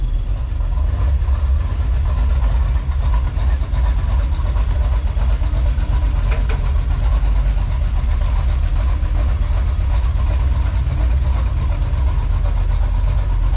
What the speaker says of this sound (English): So let that 350 warm up, and then we'll move it in the shop.